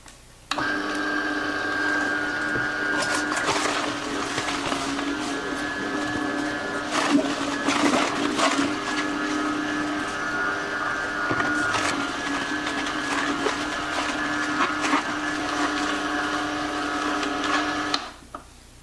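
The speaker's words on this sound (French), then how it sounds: "je vais rallumer la machine et je vais insérer les fruits et légumes qui restent" An electric juicer runs steadily as the remaining fruits and vegetables are fed in for an acerola energy juice, a loud continuous motor whine with brief grinding surges, stopping near the end.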